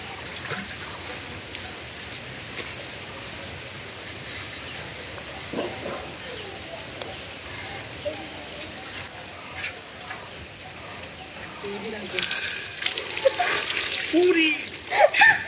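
Running water rushes in a continuous soft hiss outdoors, growing louder toward the end, with people talking over it.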